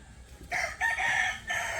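A rooster crows in two long, loud calls close by, separated by a brief dip, with chickens around it outdoors and no talking.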